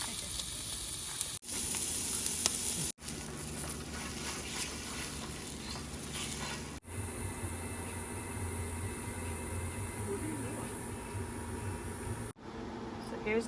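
Leftover peppers and onions mixed with eggs sizzle steadily in a pan at a campsite at Lake Manatee, a continuous close hiss broken by a few brief gaps.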